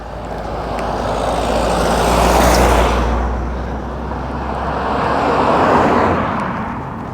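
Road traffic rolls past in a steady broad roar, swelling twice as vehicles approach and recede close by, with no voices.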